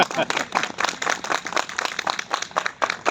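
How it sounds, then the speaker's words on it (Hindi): Dense applause from an audience at a poetry event in Lucknow: a steady, busy patter of many hands clapping together, fairly close and even in loudness across the whole stretch. "ताली बजाएंगे तभी मालूम पड़ेगा।"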